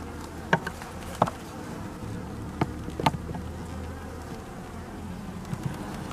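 Honeybees hum in a dense, steady buzz close by at an open hive, with occasional clicks and knocks of handling frames on top; no talking.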